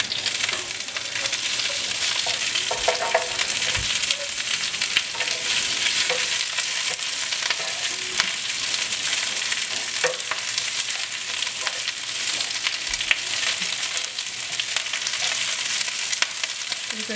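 Kailan being stir-fried for rice noodles (kwetiaw) in a hot pan, with a continuous loud sizzle and scattered scraping and tossing sounds throughout.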